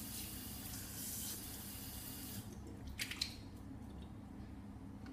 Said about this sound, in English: You're gonna get some water into your hands and splash your face.